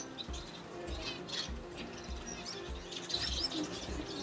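Male canaries singing in breeding season, faint bright chirps and short trills scattered through the clip with soft low thumps beneath.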